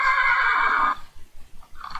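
A horse whinnies loudly for about a second, a bright shaky neigh, followed by soft snorting and rustling and a fainter second call at the end.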